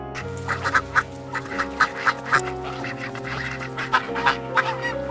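Cartoon ducks quack in quick, loud bursts, a rhythmic cluster of calls repeating over a sustained musical backing.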